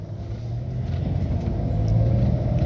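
A manual car's engine revs steadily upward with a deep, continuous rumble that builds in loudness, held at speed as if ready for an upshift, with no talking over it.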